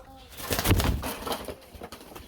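Caged pigeons coo in soft, repeated throaty phrases, close by, over a faint background.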